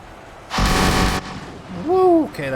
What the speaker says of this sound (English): Now we get to see the flame tanks in action.